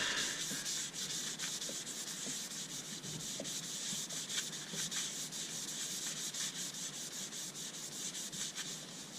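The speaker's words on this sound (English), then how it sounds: "Let's give the wood a bit of a whiz with some sanding sealer." Sanding sealer rubbed against a spinning ash wood bowl on a lathe, a steady rough friction hiss with faint rhythmic ticks, close and fairly quiet.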